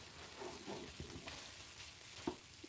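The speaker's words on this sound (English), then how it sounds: "I'm trying to stir the pepper in, but it just refuses." Pepper being stirred into a cooking pot while food sizzles, with soft scraping strokes and a few small clinks over a low, quiet frying hiss.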